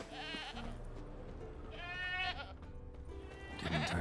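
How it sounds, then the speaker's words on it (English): A goat bleats in The Witcher 3 video game, several wavering calls spaced apart over quiet ambient game sound, moderately close. "I hear a goat."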